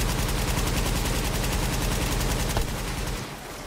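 Rapid automatic turret gunfire from The Division video game, a dense, loud, continuous burst of shots lasting several seconds before cutting off abruptly.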